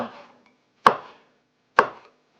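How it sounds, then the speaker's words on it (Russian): A knife slices through bell pepper on a board, giving a soft initial scrape followed by two sharp, separate chops about a second apart, close and clear. "Теперь я нарежу перец. Я перец делаю слайсами."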